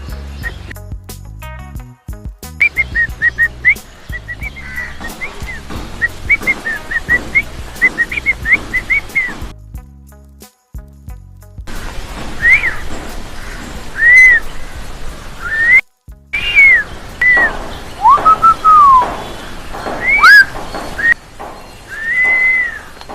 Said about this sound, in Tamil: அதை விட்டு 2 பேரும் விசிலியே அந்தாக்ஷரி விளையாடிட்டு இருக்கீங்க